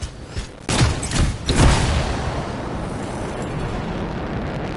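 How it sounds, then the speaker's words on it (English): A contained canister explosion in a video game bursts with a few heavy broadband blasts in quick succession, then fades into a long rumbling roar that lingers at steady loudness. "It'll be a contained explosion."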